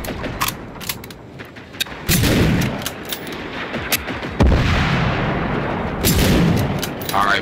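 Repeated sharp gunshots and heavier booms from a Generation Zero firefight against robots' missiles, scattered irregularly at close range over a rumbling background, with occasional voices in the mix.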